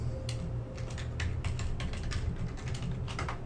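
Rapid keystrokes on a computer keyboard entering a password, a steady run of light, close clicks at an even pace over a constant low hum.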